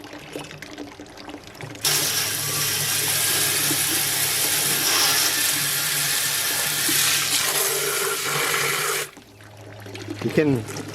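A BrewZilla Gen4 pump circulates water through the brewing vessel, a loud, steady rushing and splashing that starts suddenly and cuts off after about seven seconds, with a low hum underneath and faint talk before and after.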